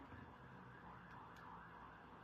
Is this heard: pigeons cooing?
no